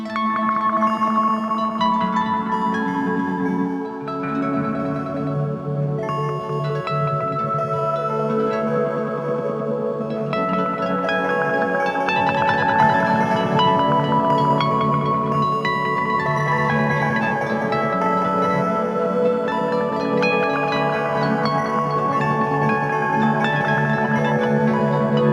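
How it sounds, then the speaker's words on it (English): Dense, sustained wall of layered tape, bucket-brigade and bit-crushed delay repeats from a stack of delay pedals, smeared tones piling into a thick wash that stays loud and continuous with no talking. "I'm gonna create a giant wall of delay"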